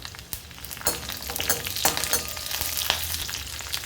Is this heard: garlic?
yes